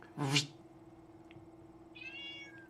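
A house cat gives one short, clear meow close by in a quiet room, followed later by a faint, thin, tonal whine and a steady low hum in the background.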